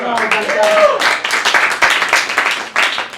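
A comedy club crowd at Village Underground breaks into dense, loud clapping and applause that carries on throughout, with voices and a few whoops mixed into the clapping.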